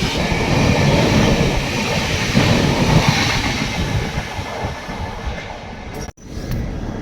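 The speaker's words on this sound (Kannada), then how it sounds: "ಈಗ ಜಸ್ಟ್ ಹೋದ್ಲ ಆ ಟ್ರೈನ್ ನಂಬರ್ ಮಂಗಳ ಲಕ್ಷದ್ವೀಪ್ ಎಕ್ಸ್ಪ್ರೆಸ್" The Mangala Lakshadweep Express, arriving from Hazrat Nizamuddin, rumbles past close by with a loud continuous roar of wheels and carriages, fading slightly before a sudden brief cut near the end.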